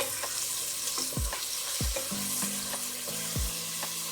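Onion fries in a pan over medium heat for fried rice, a steady bright sizzle with a few soft clinks and scrapes, no voices.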